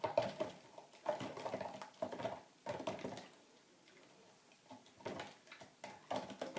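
Intermittent scraping and light clinking of a spoon stirring a seasoning mixture for fermented fish sauce in a bowl, close and quiet, in irregular strokes with brief pauses.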